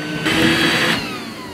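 Robot vacuum cleaner running as it carries toy animals on top, a steady whirring motor hum that swells louder for a moment in the middle before easing back, close by with no talking.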